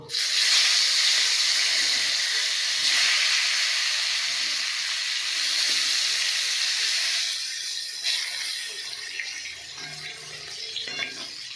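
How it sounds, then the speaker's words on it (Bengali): Pointed gourds (potol) frying in a pan give off a steady, loud bright sizzle and hiss that gradually eases, with faint clinks and stirring noises near the end. "পটলগুলো ভেজে নেব।"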